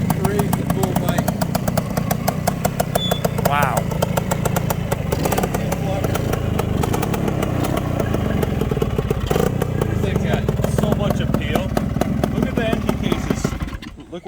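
A Bultaco 350 trials motorcycle with polished engine cases, its engine running with a steady close, loud, clattering idle the whole time while someone talks over it.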